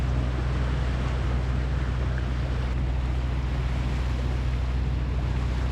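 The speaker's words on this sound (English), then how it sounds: "It was a bit of a slow motor because we had the current against us and there's just not much wind, so we're just motoring." A sailboat motors slowly out of a channel against the current in light wind, giving a steady, continuous low engine drone with water wash and wind noise throughout, no voices.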